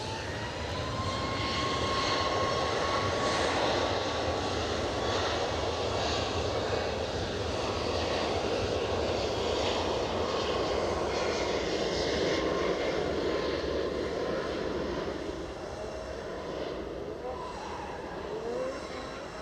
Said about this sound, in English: So departing, we've got Ryanair off to Prague. Rolling as we speak.